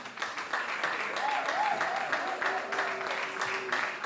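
Sustained applause from an audience at the Bravo Bellevue Awards ceremony, steady mid-level clapping with a few tonal sounds and voices faintly underneath.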